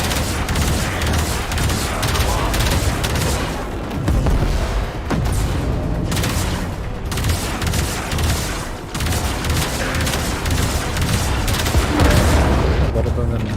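Weapons fire at a capital ship in a space video game, a dense continuous barrage of booms and bursts with repeated sharp blasts, loud and layered throughout, with game voice lines speaking over parts of it.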